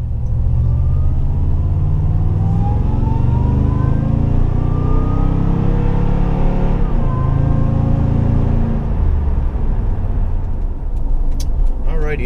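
A Toyota truck rolls through a dealership lot, its steady engine rumble close and continuous with a slight rise in revs partway through, and a voice talks over it.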